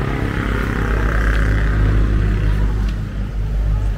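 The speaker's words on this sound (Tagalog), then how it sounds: "atras pa yung sasakyan sa likod" A car reversing behind on a road near Tagaytay, a steady low engine rumble close by, continuous and fairly loud, with no talk.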